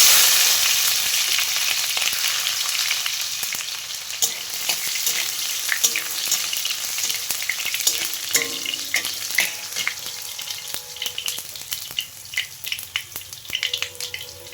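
Chopped tomato drops into hot oil with bay leaves, producing a loud, bright sizzle that slowly settles while a spoon clatters and scrapes in irregular stirring strokes.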